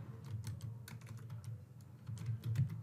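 Rapid keystrokes on a computer keyboard, typed in short irregular bursts close to the microphone over a low steady background hum.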